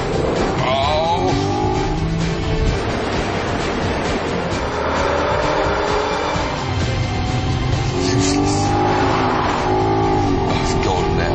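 An Audi TT and a BMW Z4 accelerating hard to 60 on a dry track, a loud continuous engine roar with rising revs, with someone talking over it.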